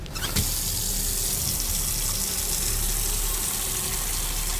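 Water from a tap gushing steadily into a container in the Autopsy Simulator game, a loud, close, continuous rushing flow that begins abruptly and holds without pause.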